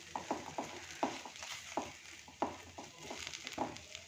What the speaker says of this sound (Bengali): এবার আবার একটু ভালো করে মিশিয়ে নেব।